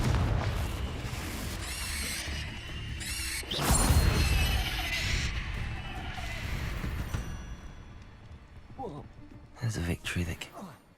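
Fire-blasting Confringo spell cast in the Hogwarts Legacy video game, a loud burst of impact and crackle amid ongoing spell effects, with a voice talking over the combat.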